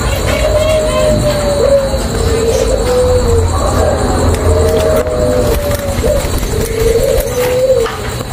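A dove, a purple-collared short-tailed type, coos repeatedly in soft, descending phrases, close by, over a constant background of traffic and faint distant chatter.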